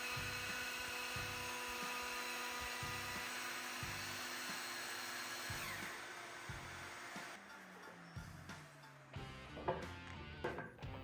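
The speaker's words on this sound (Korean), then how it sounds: "양쪽에 같은 높이의 부재를 놓아 안정적으로 루터 작업을 할 수 있게 해줍니다" A wood router shapes a walnut table leg while the piece sits between two supports of equal height. A steady high whine holds for several seconds, then turns into uneven cutting bursts and clunks, close and loud.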